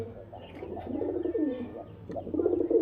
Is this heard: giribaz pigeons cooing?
yes